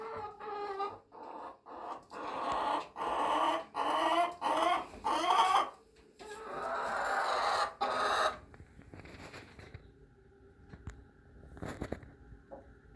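Backyard chickens at a portable homestead roost cluck and squawk in repeated loud bursts, close by, with a few quieter calls trailing off toward the end.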